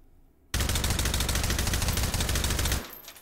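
A suppressed AR-18 rifle in the video game H3VR fires a loud, sustained, rapid burst of muffled shots lasting a little over two seconds, then falls quiet.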